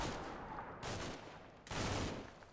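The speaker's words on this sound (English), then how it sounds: "Artillery is coming in" Artillery fire in the war game Combat Mission, heard as two loud, heavy booming blasts with long rumbling tails, the second bigger and closer, with no talking.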